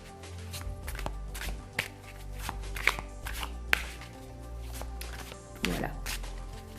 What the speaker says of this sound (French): on va battre le jeu